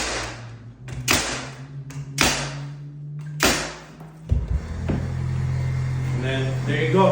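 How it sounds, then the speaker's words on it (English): A pneumatic nail gun fires nails into a wooden windowsill over its 2x4 frame, three or four sharp, loud thwacks a second or so apart, with a compressor hum running underneath. "Let's just shoot every 12 inches some nails."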